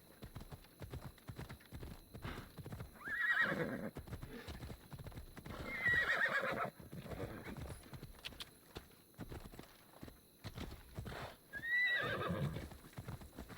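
A horse in the video game Assassin's Creed Odyssey gallops with a steady, rapid clip-clop of hooves, breaking into loud whinnying neighs three times.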